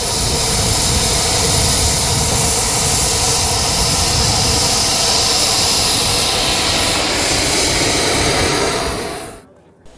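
A radio-controlled delta-wing model jet roars loudly and steadily as it flies and comes in to land. The turbine hiss holds for about nine seconds, then cuts off abruptly near the end.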